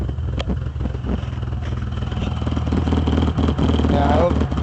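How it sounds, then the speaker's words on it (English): A Chevrolet Blazer engine idles roughly up close, a loud low chugging with uneven clattering pulses and a slight rise in level toward the end. "you can hear it idling like crap"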